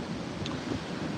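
Gusty outdoor wind buffets the microphone in a steady low rumble with no other sounds, a brief, moderately loud rush of air across the capsule.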